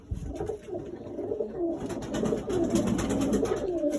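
Pigeons and doves kept in a loft, including Pakistani ring-necked doves, coo in a continuous overlapping chorus that is close and moderately loud, with no talking.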